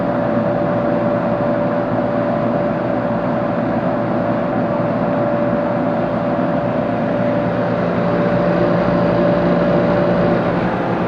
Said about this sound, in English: Compressor sounds pretty good.